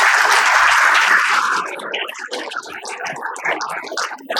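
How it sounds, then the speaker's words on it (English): Audience applause at a healthcare excellence awards ceremony, a loud, dense burst of clapping for about a second and a half, then thinning into scattered, irregular claps that keep going more faintly. "a huge round of applause for her"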